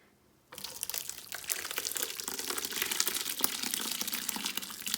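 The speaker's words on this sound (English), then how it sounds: "I'm going to drain water there so it can drain all water" Water from freshly made paneer strains through a thin cloth, starting abruptly after a brief quiet moment and then running as a steady, close gushing trickle with soft crinkling, with no voices.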